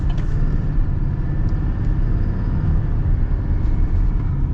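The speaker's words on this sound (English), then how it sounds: "really good torque out of the Duramax per usual" A 2024 GMC Sierra HD Pro work truck with a Duramax diesel engine accelerates, giving a steady, loud, deep rumble that holds evenly throughout with no voices over it.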